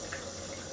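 Cold tap water runs steadily into a sink for rinsing a razor, a continuous close hiss with no pauses.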